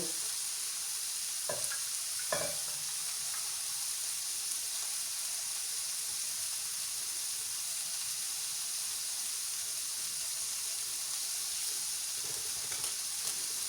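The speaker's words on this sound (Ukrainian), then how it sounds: "Мішаємо наш бекончик, хай з нього топиться смалець." Steady hiss of bacon frying in a pan, rendering its fat, with a few brief scraping clicks as it is stirred; no talking.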